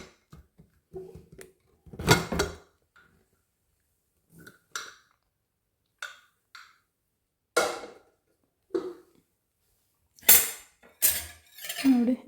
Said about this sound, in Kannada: ಸೊ ಈಗ ಲಿಡ್ ಓಪನ್ ಮಾಡ್ತಾಯಿದ್ದೀನಿ.